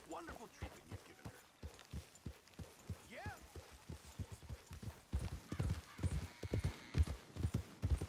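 Horse hooves clip-clopping in a video game, a steady rhythmic trot of sharp knocks that grows louder and closer toward the end, with a brief whinny and voices speaking over it.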